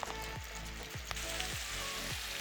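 Sliced beets sauté in a hot pan with a continuous crackling sizzle, punctuated by a few regular scraping stirs roughly every half second; no voices.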